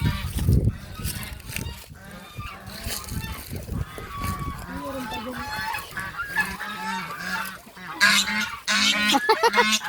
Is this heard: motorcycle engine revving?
no